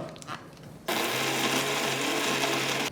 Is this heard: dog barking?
no